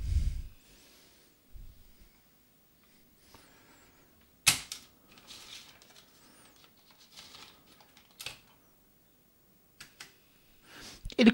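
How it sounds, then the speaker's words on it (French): Sparse bursts of key presses on a stiff Apple IIc computer keyboard, separated by quiet pauses, with a few sharper clacks. "Et le clavier fonctionne, même si les touches sont dures."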